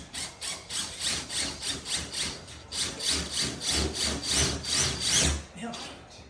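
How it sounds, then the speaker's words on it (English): A small wood screw is driven into a ceiling repair plate, giving a steady series of rhythmic grinding, rasping turns, close and fairly loud with no talking. "Let me try a wood screw down here."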